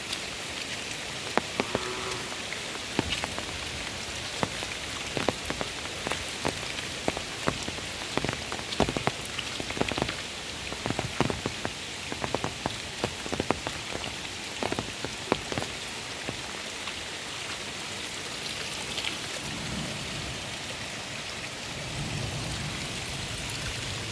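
Steady rain pours on surfaces in a village during the rainy season, a dense continuous hiss with scattered sharper drop taps throughout and no voices.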